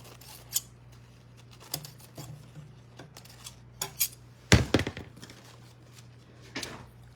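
Scissors snip through material while an old wooden box is being redone, a series of sharp, separate close cuts at irregular intervals with one louder cluster of snips in the middle.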